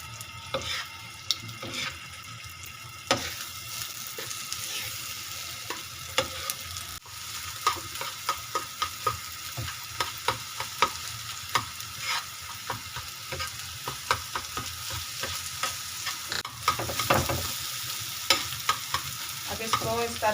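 Egg mixture for anda ghotala is stirred and scraped in a hot pan with repeated sharp clinks and scrapes of a spatula over a constant close sizzle of frying.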